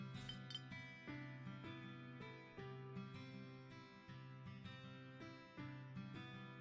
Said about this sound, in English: the only sounds that can be heard in the margin are the bottles clinking against each other